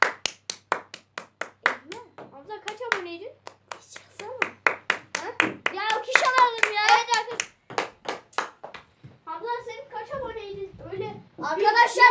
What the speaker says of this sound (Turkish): Oğlum, elmas bir alkış alalım ya.